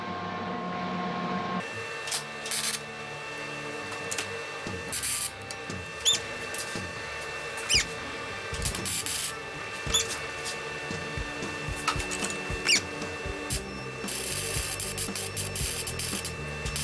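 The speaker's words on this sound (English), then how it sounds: "Let's jump right into some weld testing" Test tack welds on a Tomos Nitro 50 scooter gas tank, with a steady buzzing crackle running throughout and sharp pops and ticks scattered across it. No one speaks.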